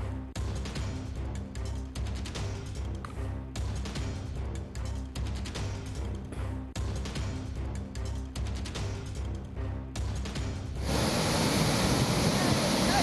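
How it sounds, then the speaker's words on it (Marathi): Satkund waterfall at the Ajanta caves, swollen by the flooded Waghur river, roars as a loud, continuous rush of water, with a voice speaking over it for most of the stretch before the torrent is heard alone. "वाघरू नदीला पूर आल्यामुळे सातकुंड धबधब्याला जोरदार पाणी आलेलं आहे"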